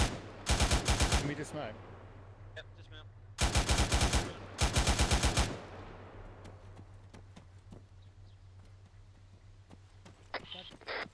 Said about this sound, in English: We take fire front left.